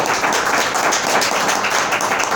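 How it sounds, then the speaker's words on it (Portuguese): A church congregation claps together, a dense continuous patter of many hands filling the room, loud and steady with no voices over it. "palmas para Jesus, irmão."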